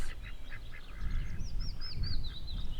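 Indian runner ducks on a small farm quacking in a scattered series of short, nasal calls over a low rumbling background, fairly faint and without speech.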